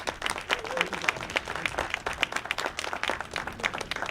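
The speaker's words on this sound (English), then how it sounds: "Let's give all our veterans a round of applause." A crowd at a Memorial Day ceremony gives sustained applause for veterans, with dense, steady clapping that carries through the whole clip at a moderate distance.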